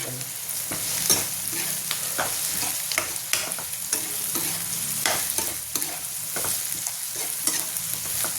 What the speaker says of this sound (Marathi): आता याच्यात कांदा लसूणची पेस्ट आणि हे टमाटो पण टाकायचे